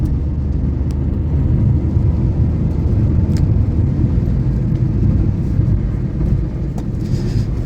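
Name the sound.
Tata Tiago car driving fast on highway flyover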